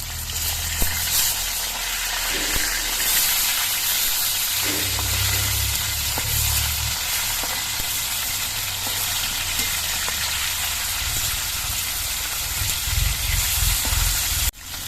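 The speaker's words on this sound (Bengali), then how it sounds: "মাছের এক পিস ভাজা হয়ে গেছে আমি উল্টে দিচ্ছি" Pieces of tilapia frying in hot oil for a spicy fish curry give off a steady, close sizzle and hiss that continues throughout, with a few brief clatters and bubbling surges as a piece is turned over.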